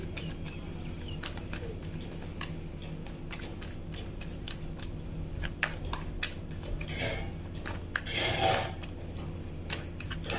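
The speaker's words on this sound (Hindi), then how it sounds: "सो कार्ड को हम शफल कर लेते हैं 3 more टाइम।" Tarot cards are shuffled by hand in a quiet room, giving a steady run of soft riffling and flicking taps with a few louder snaps near the end, all fairly close and without speech.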